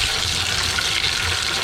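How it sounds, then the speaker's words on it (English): A household water pump hums steadily beneath a kitchen sink, a constant broadband whoosh with low rumble throughout, no talking. "Sorry about the noise in the background. My water pump is underneath the sink."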